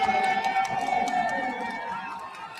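Basketball arena crowd at the Shark Tank rising to its feet during a championship game, a loud roar of cheering and shouting that stays dense and sustained throughout, with an announcer's voice running over it.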